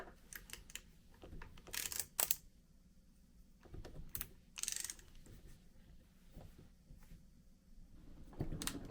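Screws set tight in a .308 rifle part are worked loose with a tool, giving scattered clicks, creaks and scraping ticks in irregular bursts, close and fairly quiet, with no talk.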